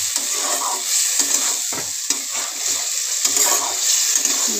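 Eggs being stir-fried with spices in a pan: loud, close sizzling broken by brisk, irregular scrapes and clatters of a spatula, with no speech.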